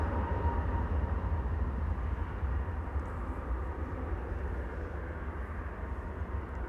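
An Airbus A321neo rolling on a runway at Amsterdam Schiphol, a broad low engine roar with steady rumble, moderately distant and holding constant throughout, without speech.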